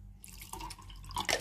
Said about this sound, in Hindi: थोड़ा सा डाल दूंगी मैं इसमें ठंडा पानी